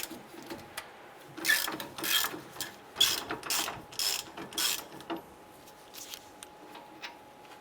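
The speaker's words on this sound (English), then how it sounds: "Using a 21mm socket, go ahead, loosen and remove this bolt and the one up above." A 21mm socket on a ratchet loosens and backs out a brake caliper bracket bolt on a 2002-2008 Dodge Ram 1500, giving close, quick bursts of clicking ratchet strokes with short pauses between, no talking.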